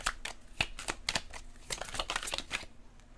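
Tarot cards being shuffled close by, a quick run of crisp riffling flicks and soft card slaps over about three seconds, with no voice.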